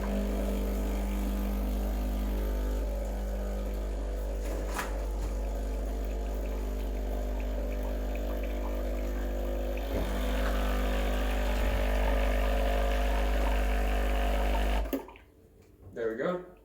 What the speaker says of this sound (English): just run a double shot of water without any coffee in the handle